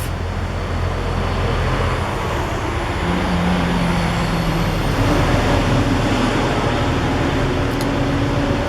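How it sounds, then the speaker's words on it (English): Trucks pass on a dirt road in the middle of nowhere, a steady loud low rumble and broadband road noise lasting throughout, with a faint tonal drone joining partway and no talking. "I chose the day that trucks pass on a dirt road in the middle of nowhere."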